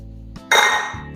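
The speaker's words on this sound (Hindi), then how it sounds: "हटाते हैं लिड" A metal lid clinks sharply once as it is lifted off a cooking pot, followed by a brief ringing decay, close and clear.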